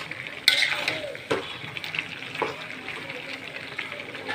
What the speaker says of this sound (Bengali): এই যে মাথার মাংস রান্না করতেছি